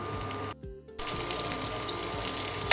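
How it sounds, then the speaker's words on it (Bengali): Fish frying in a pan at home for a Sunday dinner, a steady close sizzle and crackle running throughout, briefly dipping near the start before resuming at full strength. "দিয়ে দিলাম এবার ফিশটা। এবার এটা ফ্রাই হোক ভালোভাবে।"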